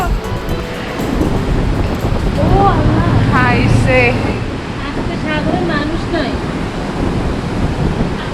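Sea surf at Cox's Bazar, heard from a hotel balcony, rolls as a continuous loud wash mixed with wind buffeting the microphone while people talk over it.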